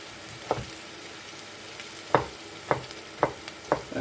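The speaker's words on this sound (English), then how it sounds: "Meanwhile my onions are just sweating" Quiet sizzling of onions sweating in a pan, broken by five sharp scraping knocks of a utensil stirring at irregular intervals.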